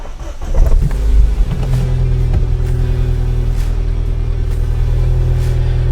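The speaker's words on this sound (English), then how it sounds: "Fire up the car, and fingers crossed this has done it." A Ford Fiesta ST engine cranks and catches with a loud burst, then settles into a steady, close, rumbling idle that continues evenly to the end.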